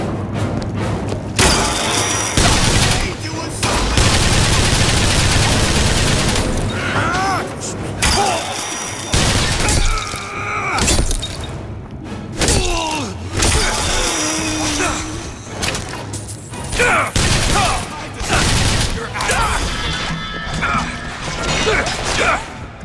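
Gunfire and crashing combat noise from BioShock Infinite: Burial at Sea, a loud, dense barrage of shots, smashes and mechanical clatter running almost continuously, with game voices breaking in between bursts.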